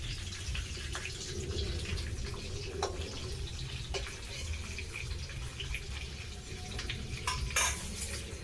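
Fish frying in a pan at home, with a steady sizzle underneath and a few scattered clinks and scrapes of a utensil, then a brief louder clatter near the end.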